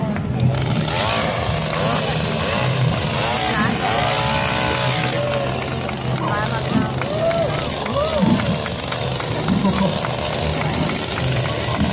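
A loud chainsaw engine roars and revs continuously during a juggling stunt, buzzing and whining up and down, with crowd noise and voices mixed in.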